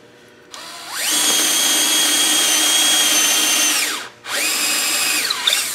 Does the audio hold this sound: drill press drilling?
yes